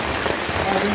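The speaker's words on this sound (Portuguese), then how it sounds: "E a chuva não para, pessoal." Heavy rain pours steadily during a flood in Joaquim Gomes, Alagoas, where water has swamped a bar; a dense, continuous wash of rainfall fills the short stretch with no talk over it.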